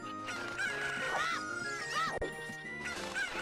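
Chickens cluck and squawk repeatedly in the video game Ocarina of Time: Master Quest, layered over steady background music.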